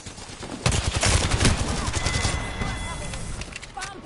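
Gunfire in the video game Apex Legends, rapid bursts of automatic shooting crackling loud and close, thinning toward the end.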